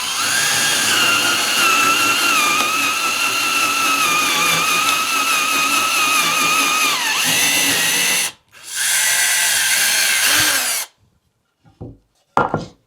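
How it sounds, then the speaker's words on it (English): A power drill with a large drill bit enlarges a hole in wood, a loud sustained whine that runs for about eight seconds, pauses briefly, resumes for two more seconds, then stops, followed by a few faint clicks. "we're just gonna drill that hole a little bit bigger"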